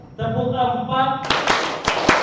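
An audience claps in a counting clap game after a brief hum of voices: a burst of several quick claps, then a few single sharp claps spaced apart.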